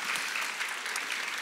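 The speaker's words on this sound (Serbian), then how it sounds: "Evo još jedan aplauz." A television studio audience gives a short round of applause for a folk ensemble marking 47 years, a brisk, even patter of many hands heard at moderate distance with no talking.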